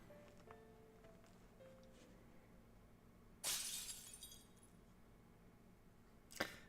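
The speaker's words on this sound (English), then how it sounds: "The sound of light bulbs shattering really hurts a little bit there" Light bulbs shattering in the video game Fate/Grand Order, a sharp bright burst of breaking glass midway with a tinkling tail, then a second shorter crash near the end over a quiet game background.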